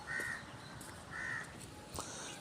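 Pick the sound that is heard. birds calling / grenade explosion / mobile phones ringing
birds calling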